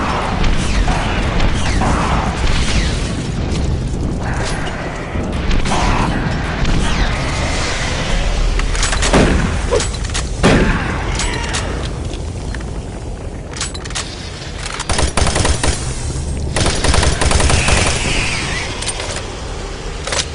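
Shotgun and weapon blasts in the video game Doom 3, mixed with heavy booms, crashes and mechanical game noise, loud and continuous throughout.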